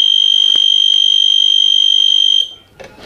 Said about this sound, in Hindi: जब आपका पाउच सील हो जाएगा तो मशीन की आवाज़ बंद हो जाएगी।